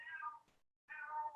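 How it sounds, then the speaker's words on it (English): A cat meows loudly from outside a door, two drawn-out meows separated by a brief pause, sounding muffled and fairly quiet. "my cat's outside the door meowing really loud"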